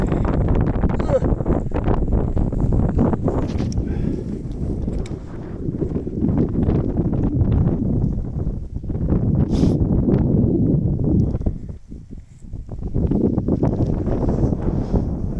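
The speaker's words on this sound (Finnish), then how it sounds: "Aikamoinen tuuli." Strong wind buffets the microphone in heavy roaring gusts, easing briefly near the end before picking up again.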